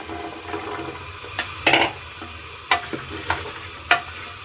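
Finely cut potatoes for aloo methi (fenugreek potatoes) going into a hot pan, a soft low sizzle with a few sharp clatters and scrapes of a spoon, close by and with no talk.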